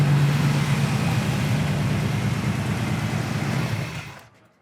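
A 1979 Camaro Z28's V8 engine idles steadily with a deep, throaty low rumble, close by, then cuts off near the end.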